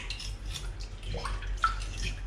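A fish is rinsed under a running sink tap, with steady splashing water and brief irregular trickles and drips close by.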